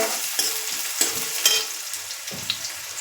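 Dry and green onions frying in a pan over low heat, a steady close sizzle with a few scraping stirs of a spoon breaking through at intervals.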